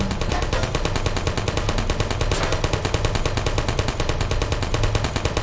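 Sustained rapid automatic gunfire in a video game, a steady machine-gun rattle of evenly spaced shots that runs loud and unbroken for several seconds.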